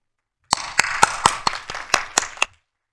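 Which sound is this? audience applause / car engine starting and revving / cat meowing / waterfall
audience applause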